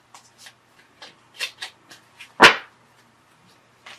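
Oracle cards being shuffled by hand, a series of soft papery riffles and flicks at close range, ending in one sharper, louder snap of cards, then quiet.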